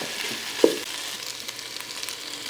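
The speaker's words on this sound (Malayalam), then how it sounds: "ആ മസാല ഒന്ന് ചിക്കനിലേക്ക് പിടിക്കേണ്ട ഒരു സമയമുള്ളൂ അത്ര ഇളക്കിയെടുത്താൽ മതി" Chicken masala sizzles close in a pan with a firm stir near the start, then a steady low fry with light scraping.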